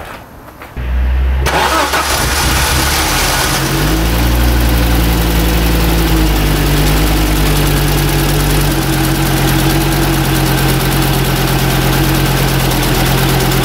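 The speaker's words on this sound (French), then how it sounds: "Sans l'injecteur de départ à froid, elle démarre mieux qu'elle a jamais démarré." An Audi 200 Quattro Turbo, running without its cold-start injector, cranks briefly and fires up, then settles into a steady, loud idle close by with no talk.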